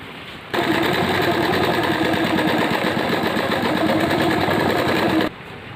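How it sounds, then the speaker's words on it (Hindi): An electric sewing machine stitches plazo pant fabric in one steady, even run of fast needle chatter and motor hum, loud and close, starting and stopping abruptly, with no talking. "फिर यहाँ से हम सिलाई लगा लेंगे पूरा आसन तक।"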